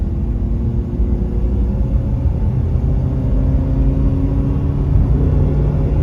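A Honda CR-V engine driving under load gives a steady, loud broadband rumble and whir from inside the cabin, with no distinct rev peak and no talk.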